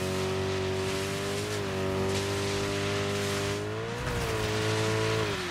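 A racing car in the Dirt 5 video game roars steadily across a snowy track, its engine droning with shifting pitch as it revs and eases, loud and continuous with occasional tyre hiss.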